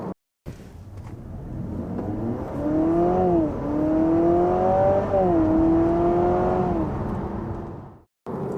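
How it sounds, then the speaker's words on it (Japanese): Honda Civic e:HEV hybrid accelerating hard at full throttle in sport mode, a loud, steady engine roar with a rising and dipping synthetic whine that climbs through the run before cutting off abruptly. "スポーツモードでアクセルを大きく踏むと、平たく言えば全開にすると、その音的なね、演出がすごいです"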